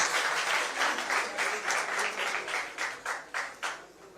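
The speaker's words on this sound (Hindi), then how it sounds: "एक बार उनकी जोरदार ताली बजाइए उनके लिए" Audience applause fills a political gathering, a steady wash of many hands clapping at moderate distance, swelling and easing in rhythmic surges throughout with no voices on top.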